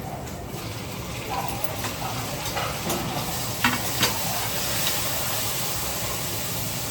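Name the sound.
tomatoes frying in a pan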